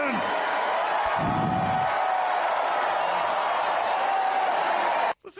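A large arena crowd cheers and roars loudly and continuously during a speech at a political rally, with a brief voice over the crowd early on, before the sound cuts off abruptly near the end.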